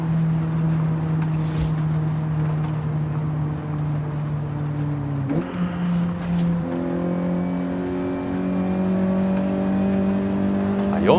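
A fully customized 2000 Nissan Silvia S15 Spec R in Forza Horizon 5 holds a loud, steady engine drone, then drops pitch abruptly at a gear change and climbs again as it keeps accelerating.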